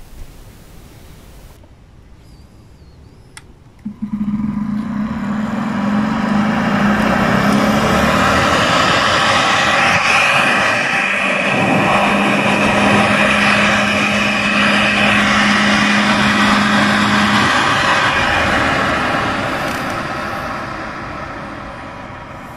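A Carrier/Bryant ECM inducer motor (HC23CE116 / 5SME44JG2006D) is switched on for a stand-alone test run: after a click it spins up to a loud steady whoosh of air with a faint tonal hum, then winds down slightly near the end.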